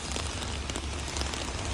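Evening rain pours down steadily, a dense, loud and continuous hiss of drops striking surfaces close by with no pause.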